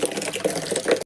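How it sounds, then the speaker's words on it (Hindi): Water splashes and gurgles steadily as it is poured onto potted plants, close and continuous for about a second before a brief break. "मैं फटाफट से पौधों में पानी भी डाल लेती हूँ ताकि मेरा काम कंप्लीट हो जाए।"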